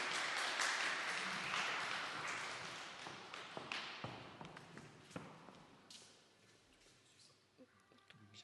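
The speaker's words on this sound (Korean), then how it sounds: "박수로 환영하겠습니다." Church congregation applauding to welcome people forward during a Korean community Sunday service, a broad wash of clapping that swells early and then thins into scattered individual claps.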